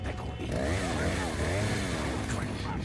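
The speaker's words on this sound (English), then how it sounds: "Chainsaw." A chainsaw in the video game Resident Evil 4 drones steadily at a throaty, wavering pitch, loud and close throughout with game noise and a voice mixed in beneath it.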